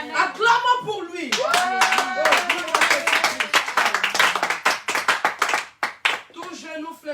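A church congregation claps rhythmically while voices shout and acclaim over it, loud and lively throughout.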